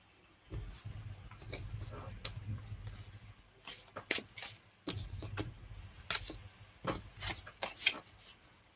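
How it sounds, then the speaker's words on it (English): Tarot cards being shuffled by hand in rapid riffling and sliding bursts, close and steady, with a few sharp snaps and brief pauses between handfuls. "Did I give them a good shuffle?"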